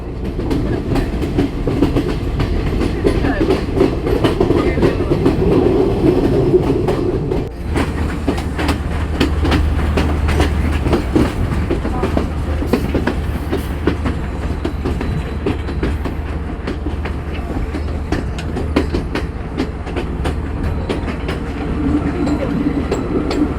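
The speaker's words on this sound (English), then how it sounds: "This is our first time taking a train ride, an actual locomotive that is" A train on the Sri Lankan railway rolls steadily along the tracks near Nine Arch Bridge, continuous rumbling and rhythmic clickety-clack from the wheels, close and loud throughout, with no talking.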